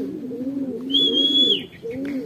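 Racing pigeons coo in low, rolling murmurs, with a steady high whistle-like tone over them partway through and brief quiet before the cooing resumes.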